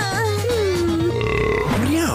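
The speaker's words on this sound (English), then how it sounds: "It's not a burping competition." A single long, loud, gurgling cartoon burp with wavering pitch, close up and alone.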